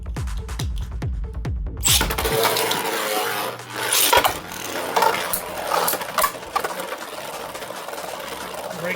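3D printed beyblades spinning and clashing in a battle arena, a busy rattling whir of plastic tops with sharp knocks and scrapes as they collide, close and continuous.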